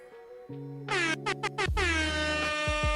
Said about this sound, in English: Let me hit y'all with the air horn.